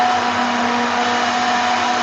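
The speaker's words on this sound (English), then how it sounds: "That was just a blender clean." A blender being cleaned runs in a kitchen with a continuous loud whirring motor and an even pitch throughout, alone with no voices.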